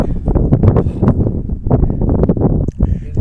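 Gusty mountain wind buffets the microphone in heavy, uneven bursts, rumbling loudly and close with brief lulls between gusts.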